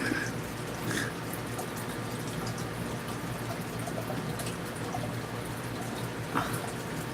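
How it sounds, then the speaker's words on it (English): Loud splashing and bubbling from a fish tank filled with too little water, a steady churning wash with a few brighter splashes standing out, no voices. "I really should have put water in that fish tank."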